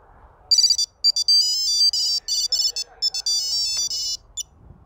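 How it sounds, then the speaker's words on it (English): A bright electronic ringtone from a disc golf tracker plays a rapid, repeating melody of high beeps for about four seconds, loud and clear against near silence. "press the play button to start the ringtone and tap again to stop it."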